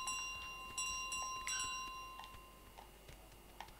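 Bells ring in Untitled Goose Game at a pub, several bright metallic strikes with lingering tones spaced over a few seconds, fairly faint over a steady background hum.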